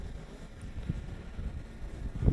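Wind buffets a microphone outdoors during a Yuneec Mantis Q drone flight test, a low rumbling gusty noise that swells and fades, with a stronger gust at the end and no voices.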